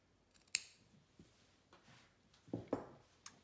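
Scissors snip notches into fabric close to a seam, a few crisp, near cuts spaced irregularly in a quiet room, with small rustles of cloth between them.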